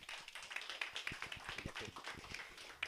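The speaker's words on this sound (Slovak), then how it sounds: "tak poprosím potlesk pre Andreja" An audience at a crypto gathering claps steadily for a few seconds to welcome a guest named Andrej. The applause is dense and even, with no talking.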